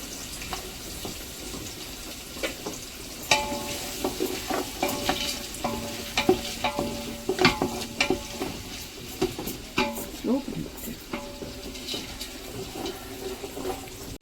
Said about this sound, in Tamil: வெங்காயம், புதினா எல்லாமே போட்டு வதக்கிக்கலாம்.